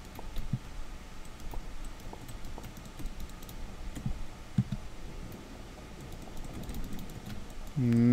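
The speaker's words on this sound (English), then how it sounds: "I'm clicking." Faint computer mouse and keyboard clicks tick away sparsely during a horror game session, quiet against a low background hum, with a voice breaking in at the end.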